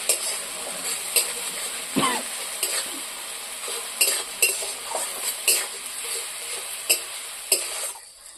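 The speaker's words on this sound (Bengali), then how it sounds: "ভালো করে আমি ভেজে মশলাগুলো" Ground ginger, cumin and chili paste fry in a pan with a soft continuous sizzle, punctuated by repeated scrapes and clinks of a spatula stirring against the metal, close and moderately loud.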